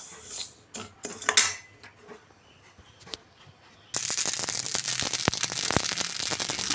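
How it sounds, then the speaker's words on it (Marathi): Garden cress seeds roast in a pan, first with sparse scattered pops and clinks, then a sudden dense, steady crackling and sizzling that continues close and fairly loud to the end. "हळीव तडतडेपर्यंत व्यवस्थित भाजून घ्यायचे।"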